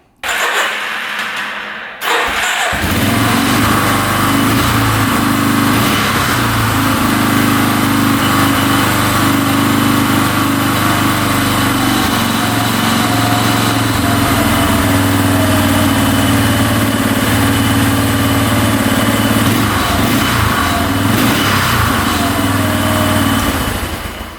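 A UTV engine, after a stator repair, cranks and catches within two seconds, then settles into a loud, steady, rough idle close by for over twenty seconds, with no speech.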